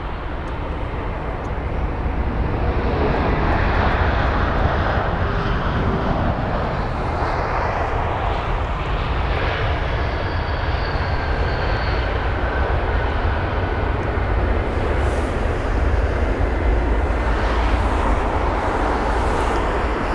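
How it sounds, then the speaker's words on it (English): An Airbus A319 at London Heathrow heading for runway 27, its jet engines giving a loud, sustained roar that holds steady, then swells and shifts in pitch as it passes, with no talk. "Here's the tiny A319."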